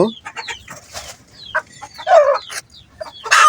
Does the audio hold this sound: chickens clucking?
yes